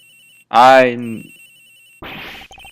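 A phone rings in the video game Miles Edgeworth Investigations, one short electronic ring followed by a stuttering burst of repeated ringing tones over a faint steady hum.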